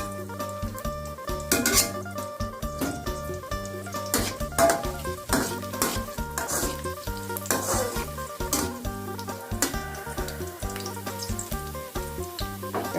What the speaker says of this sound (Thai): เจียวกระเทียมให้หอมหอมก่อนนะคะ